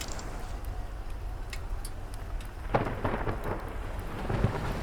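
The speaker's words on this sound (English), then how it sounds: "vanished beneath the rain and thunder" Steady heavy rain hisses throughout while thunder rumbles low and then cracks louder partway through, with scattered drops ticking on a surface nearby.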